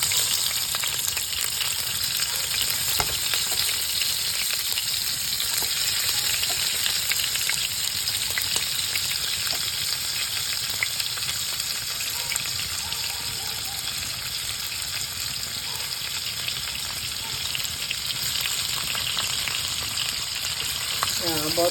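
Chicharong bulaklak frying in oil in a wok, a dense, continuous crackling sizzle heard up close with a few faint clicks, steady throughout and no talk.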